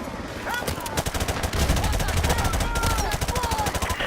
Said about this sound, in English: Suppression fire on that building!